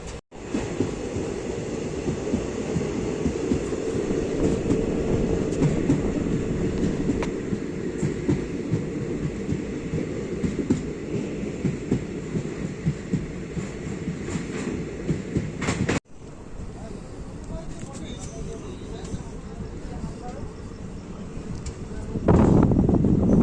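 The Uttarbanga Express, running from Sealdah to New Coochbehar, pulls out of Dhatrigram station with a loud, continuous rumble and rattle of carriages. The sound drops abruptly partway through, then swells again with a sharper burst near the end.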